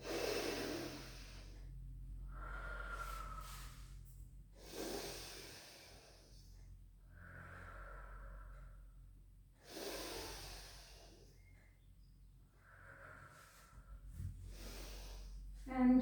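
Slow, soft breaths in and out during a Pilates child's pose, several quiet drawn inhales and exhales spaced evenly apart, close and alone with no talking.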